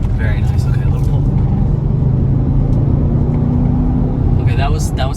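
A 2021 Audi RS6 Avant accelerates at half throttle with a steady, deep engine rumble heard from inside the cabin, loud and constant, with faint movement noises.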